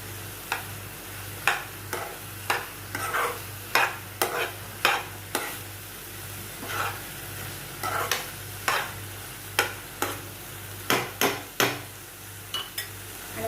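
Carrot halwa is stirred and sautéed in a pan, with a utensil scraping and clinking against the metal in repeated, irregular strokes. A soft, steady sizzle runs underneath, heard up close and without speech.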